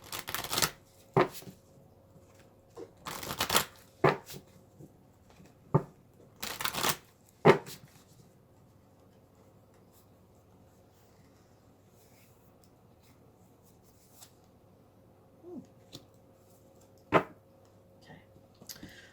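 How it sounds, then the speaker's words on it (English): Quiet, close shuffling of cards in scattered bursts of riffling and slapping, with long near-silent pauses between. "Let's shuffle the oracle cards."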